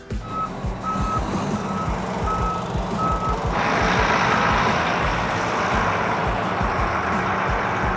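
A Volvo A35F articulated dump truck reverses, its backup alarm beeping steadily over a deep diesel rumble for several seconds before the engine note swells louder and masks the beeps.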